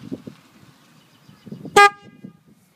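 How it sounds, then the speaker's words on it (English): A single short, bright beep from the horn on an eZee electric bike conversion, powered by its own dedicated battery, sounding alone against a quiet background with faint handling noises around it. "So the battery is only there to power the horn"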